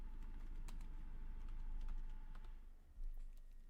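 Steady, rapid clicking of fingers typing on a computer keyboard, close and fairly quiet over a low background hum, with no talking.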